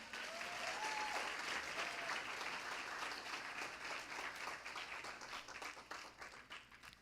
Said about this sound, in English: May we give them a round of applause?